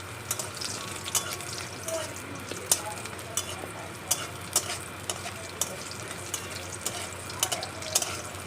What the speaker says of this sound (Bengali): এই বড়িটা একটু ভেজে তুলে রাখলাম